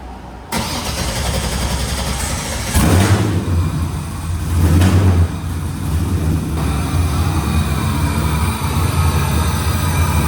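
An LSX V8 swapped into a Nissan 370Z Formula Drift car starts and runs, loud and close, with a deep steady idle punctuated by two sharp revving bursts before settling back to a rumbling idle.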